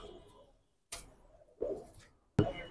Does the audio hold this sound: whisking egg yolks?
no